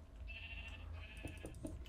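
Blocky Minecraft sheep bleat in a quiet underground cellar, a sustained nasal baa followed by a second one, with faint clicking game sounds around them.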